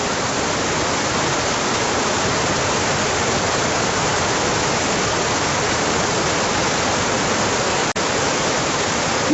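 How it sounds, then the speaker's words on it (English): Rushing water of an underground river in a tunnel, a loud steady roar filling the space throughout with no speech. "Essentially an underground river."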